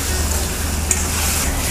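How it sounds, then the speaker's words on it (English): Marinated medium prawns roasting in ghee with masala at a coastal eatery, a loud continuous close sizzle with a steady hiss and low background hum, no talking. "And now the masala will roast in that ghee."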